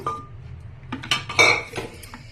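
Ingredients mixed in a metal bowl in a home kitchen, with a scattering of clinks and scrapes of a utensil against the bowl, close and fairly loud, no talking.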